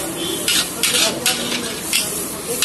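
Capsicum, onion and carrot stir-fry for chowmein at a Chandigarh noodle stall, giving a loud, steady sizzle broken by repeated bursts of spatula scraping and tossing in the pan.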